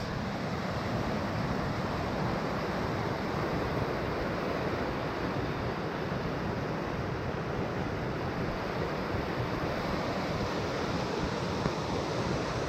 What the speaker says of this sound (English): And then here is a river.